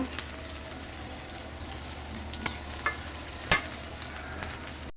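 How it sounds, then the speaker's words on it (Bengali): Green chillies split down the middle fry with onion in a pan, giving a steady low sizzle with faint crackles and a few brief sharp pops. "তিন চারটা কাঁচামরিচ আমি মাঝখান থেকে কেটে দিয়েছি কেটে দিয়ে আমি সুন্দর করে এটাকে একটু লাল লাল করে ভেজে নেব"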